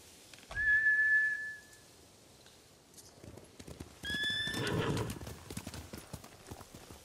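In Ghost of Tsushima, a horse whinnies shrilly, then after a quieter stretch hooves clatter and another high neigh rings out over rumbling movement.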